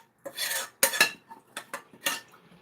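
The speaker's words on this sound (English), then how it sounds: "I'm going to rinse the pan in it." A metal cooking pan clatters as it is rinsed and handled during curry preparation, with several close, bright clanks and scrapes against utensils in short irregular bursts.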